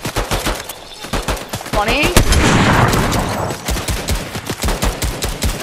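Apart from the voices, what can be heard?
gunfire in the video game Fortnite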